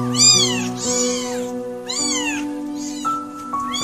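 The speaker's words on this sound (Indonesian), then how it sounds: "Hari ini anak-anak kucing Bleci sudah berumur 2 minggu" Several two-week-old kittens meow repeatedly in high, thin cries, close by and overlapping, with a soft steady tone humming underneath.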